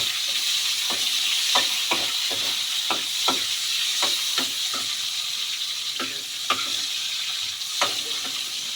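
Garlic and onion fry in a pan, burning, with a steady close sizzle and hiss throughout. Light stirring clinks from a utensil come at irregular moments, and no voices are present.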